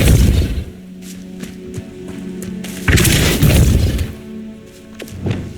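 Depulso force spell cast in Hogwarts Legacy, a loud booming blast and shattering impact opening the clip, followed by a second heavy burst midway amid game effects.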